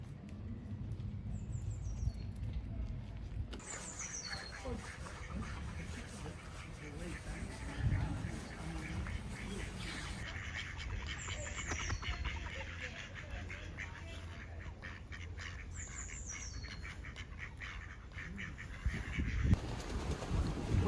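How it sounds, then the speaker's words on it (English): Ducklings quack by a pond along a countryside walking loop, giving several faint chirping calls over steady outdoor ambience and light wind. Voices talk quietly at times. "and yeah, lovely duckling."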